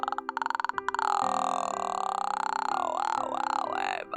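A long, drawn-out voiced burp from a streamer playing a spooky game, with pitch wobbling and sliding into a throat-singing-like drone, close and fairly loud after a few short rough onsets.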